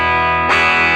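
A sustained chord through a NUX MG-30 guitar multi-effects unit with a distortion effect, buzzing and harmonically rich, with a brighter burst of distortion as a new strum hits halfway through.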